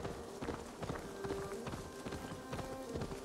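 Hooves clip-clop in a quick, steady galloping rhythm from a video game horse, looping continuously at moderate loudness with music or game tones faintly underneath.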